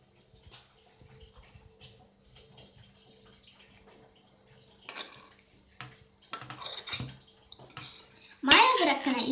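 Butter and batter stirred and scraped in a bowl for a cake loaf, with sparse quiet clinks early, then louder scraping strokes and utensil knocks against the bowl building toward a sharp final clatter.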